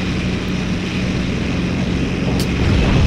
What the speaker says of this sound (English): That's quite loud. That's a bomber.